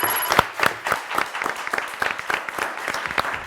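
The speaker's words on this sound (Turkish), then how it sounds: "Ablanız da orada kendi başına da alkışlamaya devam ediyor" Steady clapping from a small studio audience on a Turkish TV word quiz show, a continuous patter of individual hand claps with no talk over it.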